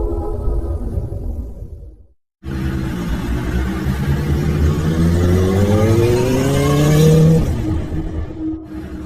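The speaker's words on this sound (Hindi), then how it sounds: "नील बाइक से अपने घर जाने के लिए निकला।" A motorbike engine rumbles loudly and close, drops out briefly, then returns as a continuous drone that rises in pitch as it revs up and accelerates before easing off.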